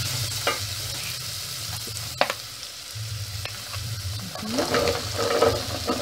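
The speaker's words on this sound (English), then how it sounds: "Then I stir a little bit." Salt and black pepper being stirred into a pot of Kenyan-style black bean stew, with a scraping, clattering spoon over a low simmering hiss and a few sharp knocks against the pot.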